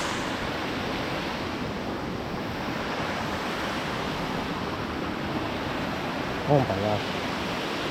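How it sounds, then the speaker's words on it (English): A small waterfall at Lake MacBride gives a loud, steady rushing roar of falling water close by, with brief wind buffeting and a short exclamation near the end. "Is that the waterfall? A little fall here?"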